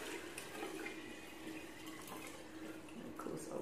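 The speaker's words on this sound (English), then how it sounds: "I'll pour it into a much smaller bottle than the bottle it came out of, but we'll just pour that in there for now." Fermented cabbage and beet brine pours steadily from a larger bottle into a much smaller one, a faint continuous trickle and splash with no talking.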